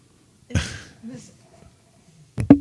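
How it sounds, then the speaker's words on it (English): A person coughs into a microphone, a short harsh burst near the start and another sharp double cough at the end, with quiet throat sounds between. "Sorry, I was coughing."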